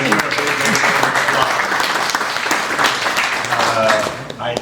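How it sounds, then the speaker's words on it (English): Audience at a networking event clapping in a sustained, loud round of applause, with voices and cheers mixed in throughout before it begins to taper. "round of applause"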